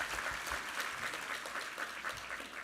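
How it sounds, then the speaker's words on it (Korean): A church congregation at a Sunday worship service applauds together, producing steady, even clapping that sounds somewhat distant and fills the room without any talking. "우리 하나님께 감사와 영광의 박수 올려드리겠습니다"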